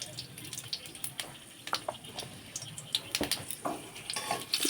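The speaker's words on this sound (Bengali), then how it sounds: "নাড়াচাড়া করে নিলাম।" Food being stirred in a cooking pot for a Bengali home dal dish, with scattered clinks, scrapes and wet clatter of a spoon against the pot, close and moderately loud over a faint kitchen background.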